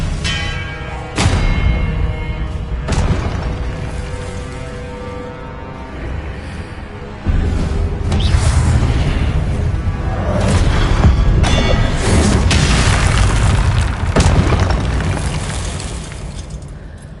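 Hogwarts Legacy fire spell blasts: a series of loud booming explosions with sharp onsets and rumbling tails, repeating every couple of seconds amid dense game effects.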